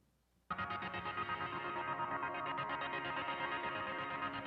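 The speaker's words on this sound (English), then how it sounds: "With the best delay ever created" A heavily processed synth or sample sound from Ableton bursts in after a quiet moment and sustains through a thick delay effect, dense, echoing and smeared, fairly loud with no talk.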